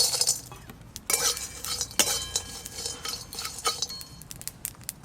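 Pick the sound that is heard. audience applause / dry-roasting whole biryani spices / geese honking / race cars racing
dry-roasting whole biryani spices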